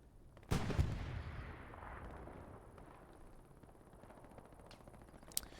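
An anti-tank gun fires once in the Hell Let Loose video game on the Kursk map, a single sharp loud blast followed by a long rumbling decay, with a faint crack near the end.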